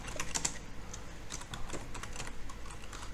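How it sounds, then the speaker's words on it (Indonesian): Rapid, irregular clicks of fingers typing on a computer keyboard while entering text in Microsoft Word, close and steady with no talking. "Perhatikan, kita bisa ngetik dulu"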